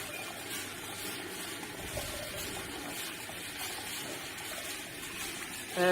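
Liquid running from the opened tap of a reflux still used for distilling alcohol, a steady soft wash of flowing liquid that holds throughout and gets a little louder at the very end.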